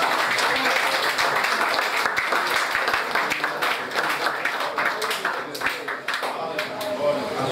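A church congregation at an Assembly of God pastoral installation service claps together, a lively, uneven patter of many hands with voices calling out over and through it.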